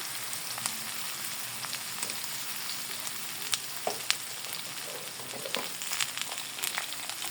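Vegetables fry in hot oil in a pan, a close, steady hiss of sizzling with scattered sharp pops and crackles throughout, no voices.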